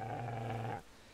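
A dog growls in the medieval game Kingdom Come: Deliverance, a low steady rumble that sounds close and fairly loud, holding for most of a second before cutting off into quiet.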